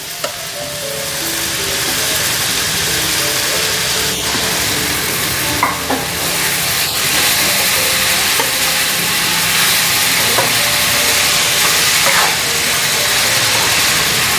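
Grated cabbage, onion and carrot fry in a pan with a steady, dense sizzle that runs throughout, broken by occasional faint clinks of stirring, with no talking.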